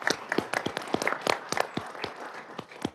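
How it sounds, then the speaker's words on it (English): Scattered hand clapping from a small city council meeting audience, a brief round of applause with distinct individual claps over about three seconds. "If y'all help me give a round of applause to Sheila."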